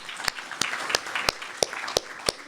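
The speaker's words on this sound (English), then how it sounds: "Let's give a round of applause, please." Slow, scattered clapping from a small audience at an evening talk, about six loud distinct claps spaced roughly evenly, with a softer patter of other hands between them.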